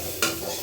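Chopped onion and carrot stir-fried in a hot pan: one loud scrape or toss near the start, then a steady sizzle that continues briefly with no voices.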